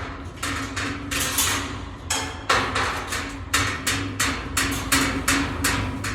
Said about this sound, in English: and then throw the pieces on the floor.